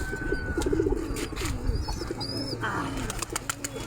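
Pet pigeons in a home flock coo in repeated low rolling phrases close by, with faint chirps and background household noise.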